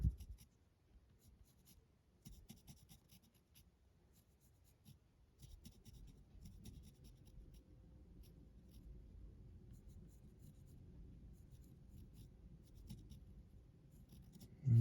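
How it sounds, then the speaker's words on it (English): A pencil sketches on a paper surface, giving faint, close scratching strokes in short irregular bursts that turn into steady, continuous shading, with no talking. "And then I'll just take my pencil."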